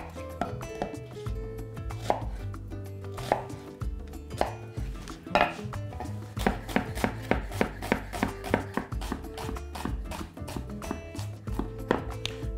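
An onion is finely chopped with a knife on a cutting board, with crisp rapid knife taps that start sparse and irregular and then speed into a fast, even rhythm, close up.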